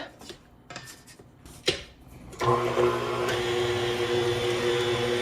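Banana bread batter churned in a mixing bowl, a steady mechanical mixer whir with clinks of a scraping utensil against the bowl, starting in sparse clatters then settling into continuous close whirring.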